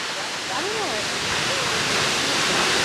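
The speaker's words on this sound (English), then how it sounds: "I love a waterfall." Waterfall in New Zealand, a steady broad roar of falling water filling the scene, loud and constant throughout with a faint voice or bird-like tone drifting over it.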